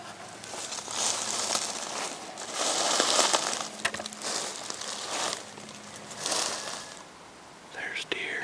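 Very dry leaves crunch and crackle underfoot in uneven bursts of steps, fairly close, on Alabama public hunting land, with a soft hushed voice murmuring over part of it.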